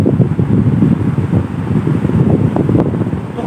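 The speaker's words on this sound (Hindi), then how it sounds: "देख सकते हो पंखा मैंने फुल चला दिया है" An electric fan running at full speed right beside a microphone produces loud, rumbling wind buffeting, a rough, fluttering roar that stays close and continuous throughout, with no speech.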